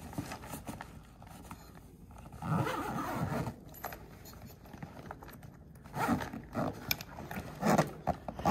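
A zipper is pulled along a packable boat bag in several short, scratchy runs, close and fairly quiet, with rustling fabric handling between the pulls.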